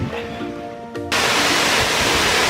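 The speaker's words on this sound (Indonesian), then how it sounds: "di air terjun Kali Mamuju" Tamasapi waterfall at Kali Mamuju in Indonesia pours in a dense, loud, unbroken rush that swells suddenly after a brief stretch of someone talking over quieter water.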